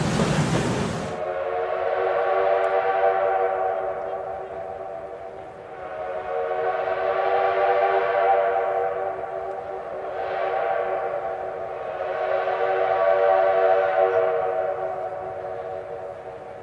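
A steam locomotive whistle on the Black Hills Central 1880 train, a standard gauge line on the old CB&Q Keystone branch, sounds in several long loud blasts that rise and fall and echo across wooded terrain, with no voices.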